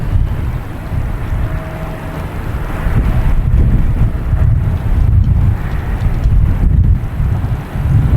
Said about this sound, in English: Next to take off is a Delta, a E-175 heading to Newark, flight 5718.